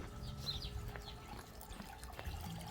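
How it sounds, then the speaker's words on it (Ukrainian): Pond water poured into a 10-litre bucket makes a faint, continuous trickle and splash outdoors, with scattered light chirps in the quiet background. "Краще, якщо вода буде відстояна, тому я беру отут зі ставочка."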